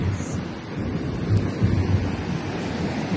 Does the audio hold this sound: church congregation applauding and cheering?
no